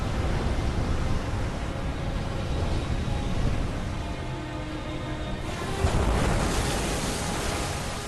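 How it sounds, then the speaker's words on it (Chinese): Storm surge waves pounding the Namibian west coast in spring, a dense, continuous roar of surf with gusting wind noise, loud and unbroken, swelling again toward the end. "一场更像是冬天才会有的风暴潮袭击了纳米比亚西海岸"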